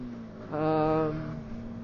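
A motorcycle engine on its stock exhaust revs once, rising into a brief loud, harmonic-rich surge about a second long before settling back to a steady idle, heard close up.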